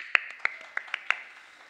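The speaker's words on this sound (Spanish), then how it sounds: "Un aplauso." A handful of scattered hand claps at a theater and opera award announcement honoring a stage designer, about five or six distinct claps spaced irregularly, fairly faint and fading out without talk.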